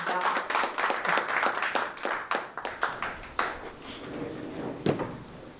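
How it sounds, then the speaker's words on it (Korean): Audience applause at a Gongneungcheon ecosystem-services policy forum, a burst of many hands clapping that thins into scattered claps and fades out. "큰 박수 부탁드리겠습니다"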